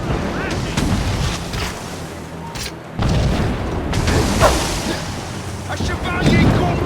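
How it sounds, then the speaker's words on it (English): Mortar fire in the video game Assassin's Creed Rogue: heavy booms and broadband blasts roll through the clip, with game voices shouting over the barrage. "Chevalier is using mortars to stop Shay."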